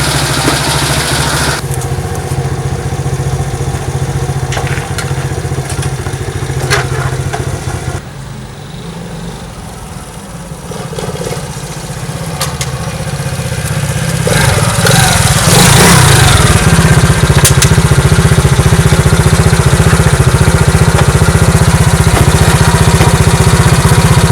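A Mustang 125 motorcycle engine after a cylinder head repair, loud and close, idling steadily, dipping briefly, then revving up and holding a high, buzzing roar to the end.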